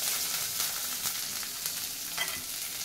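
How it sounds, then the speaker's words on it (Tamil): Chopped onion sizzles steadily in a pan over a medium flame with curry leaves, a continuous close frying hiss with faint stirring scrapes throughout and no talking. "அதையும் போட்டு நல்லா வதக்கிடுறோம்"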